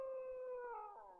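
A dog howls in a 1966 B-movie soundtrack, one long wavering howl sliding slowly downward in pitch, faint and alone.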